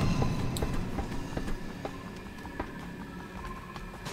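A train rolling along rails in the video game Killzone Shadow Fall, with a fairly quiet rumble and a series of rhythmic clicks and clacks from the wheels.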